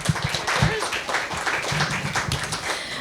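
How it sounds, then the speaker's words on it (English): Audience applause at a Prix Médicis literary prize event, a dense, continuous bed of many hands clapping, fairly loud and steady, with some murmured voices mixed in. "So again, a big round of applause for these three women."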